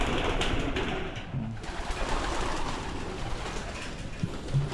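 Soft pigeon coos sound now and then in a loft over a busy, rustling background, with a few mechanical clicks and no one speaking.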